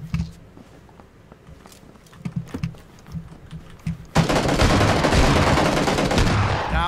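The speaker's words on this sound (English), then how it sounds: "Someone else was shooting him." In PUBG, scattered light clicks and shuffling give way suddenly to loud, dense automatic gunfire that rattles on continuously and close by.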